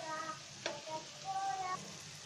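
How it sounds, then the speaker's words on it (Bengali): Onion and spices frying together in a pan for a singi fish curry, a faint, soft sizzle with a few light clinks of stirring. "মশলাটার সাথে আমরা এখন একসাথে এটাকে ভেজে নিচ্ছি।"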